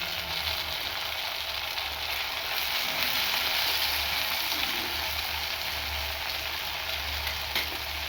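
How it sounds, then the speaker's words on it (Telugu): Chopped tomato pieces fry in hot oil in a pan for an Andhra-style vanjaram fish curry with raw mango, making a loud, steady, dense sizzle that runs unbroken throughout, with no voices. "కట్ చేసి పెట్టుకున్న టమాటా ముక్కల్ని అందులో వేసుకోండి."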